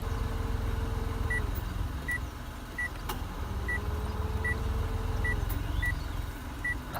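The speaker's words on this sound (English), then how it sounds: "every single time you change the climate controls, do anything with the climate controls, they beep" Short electronic beeps from the climate control buttons of a Mitsubishi Mirage repeat at roughly even intervals, about eight in all, over a constant low hum from the car's engine and fan inside the cabin.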